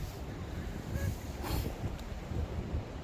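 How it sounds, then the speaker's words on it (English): Winter wind blows across a clifftop camp on the Scottish coast, a steady low rumbling buffet on the microphone that rises in gusts with no talk. "It's like a bit of wind."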